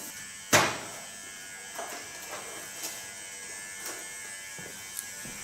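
A Gione electric hair clipper hums faintly and steadily as it works at the crown of a head, with a sharp click at the start and a few soft bumps along the way.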